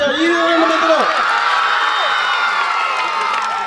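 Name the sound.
audience clapping and cheering at a school annual function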